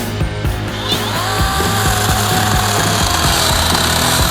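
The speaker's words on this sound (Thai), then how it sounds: "ดูความแรงของเลื่อยแบตเตอรี่นะครับ" A Total cordless battery chainsaw motor drones steadily at close range while its chain bites through wood, a continuous loud buzzing grind with no talking.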